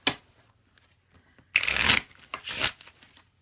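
A deck of playing cards being shuffled, a brief riffle followed by a louder buzzing riffle and a second flutter of cards, close to the microphone with little else around.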